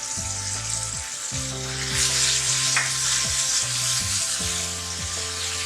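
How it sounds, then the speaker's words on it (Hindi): Garlic paste frying with golden onions in a hot pan, a steady loud sizzle with scraping stir strokes every second or so, close and continuous with no voices. "इसको अच्छी तरह भून लेंगे।"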